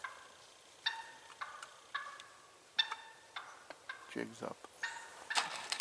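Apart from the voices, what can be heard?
wild turkey alarm putt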